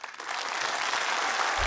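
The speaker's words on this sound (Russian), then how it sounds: "Вам аплодисменты" Brief burst of applause from a studio audience on a television talent show, clapping swelling quickly and holding steady for under two seconds.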